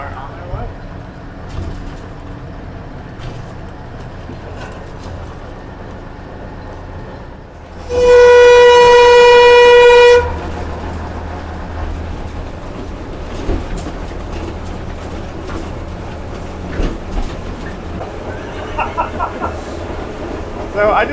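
An old diesel-hydraulic train with a straight-eight engine of 150–160 horsepower rumbles steadily as it runs, with a loud horn blast for a couple of seconds partway through; people talk over the drone.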